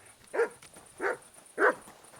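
Three short, moderately loud dog barks from Kingdom Come Deliverance 2, evenly spaced about half a second apart over a quiet game backdrop.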